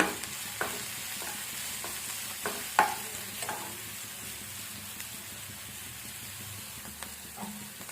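Vegetables sizzle steadily in a hot pan while a spatula scrapes and stirs at irregular intervals, close up and moderately loud, with a soft frying hiss throughout and no talking.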